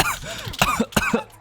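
A voice playing Paimon from Genshin Impact imitates a cough, giving a few short, rough bursts spaced across the moment with small voiced sounds between them.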